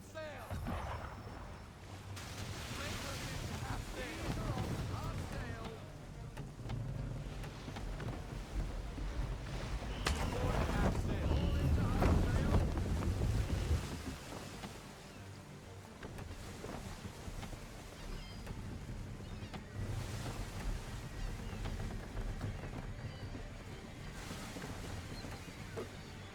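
Sailing ship running at full sail across the sea in Assassin's Creed 3: a broad rushing wash of wind and water that swells midway, with voices speaking over it.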